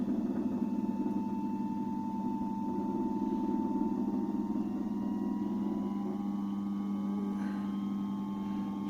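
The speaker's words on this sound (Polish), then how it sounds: "Silnik przyspiesza." A small vintage ring engine runs with a steady, low droning hum that slowly rises in pitch as it speeds up, with no talking.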